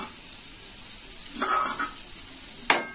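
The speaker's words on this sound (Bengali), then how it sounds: "এবার আমি বেটে রাখা সর্ষে বাটা দিয়ে দেবো।" Ground mustard paste dropped into a pan of frying elephant foot yam for a vegetarian sour dish, giving two brief bursts of sizzle and stirring, the second sharper, over a quiet background.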